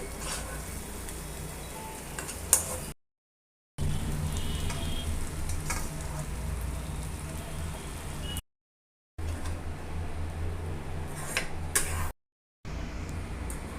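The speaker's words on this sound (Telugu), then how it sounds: "ఇప్పుడు రైస్ కలిపేసుకుందామండి" Cooked rice being stirred into gongura (sorrel leaves) in a frying pan, giving a soft continuous sizzle with occasional spatula clicks and scrapes, interrupted by short silent gaps, with no voices.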